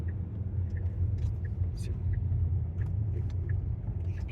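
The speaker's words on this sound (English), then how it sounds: "Semi truck." A semi truck rumbles past near a truck plaza in California, heard from inside a 2018 Tesla Model S 75D: a steady, loud low-frequency engine and road rumble filling the whole stretch, with faint higher sounds above.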